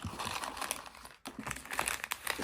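Small plastic packets rustle and crinkle steadily as they are handled close by, with dense, continuous crackling and a brief pause partway through.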